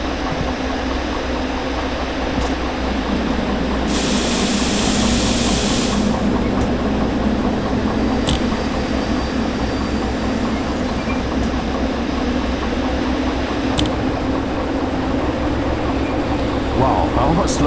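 Diesel-electric locomotives rumble steadily through Derail Valley, a continuous heavy engine drone and rolling wheel noise with a brief hiss and faint squeals, constant and close throughout.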